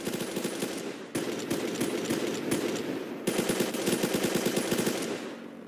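Rapid machine gun fire in a naval combat game, long sustained bursts broken by brief pauses, dense and steady at moderate loudness.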